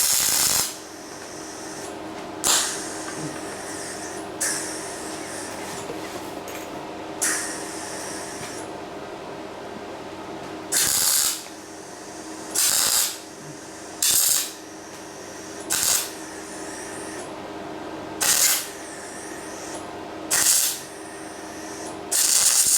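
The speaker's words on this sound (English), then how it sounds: "what I'm going to do here now is I'm going to weld this side" An aluminium hoverboard frame being welded in a repair, with a series of short, loud hissing bursts repeating at fairly regular intervals over a quieter background hum.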